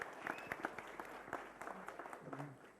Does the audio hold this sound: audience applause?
yes